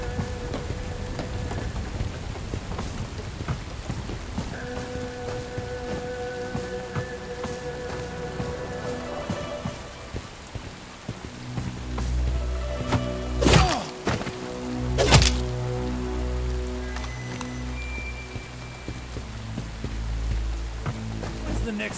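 Steady rain patters across a surface in the video game Bright Memory Infinite, a continuous wash with a few heavy thuds and a rumble of thunder midway, layered with music and game effects.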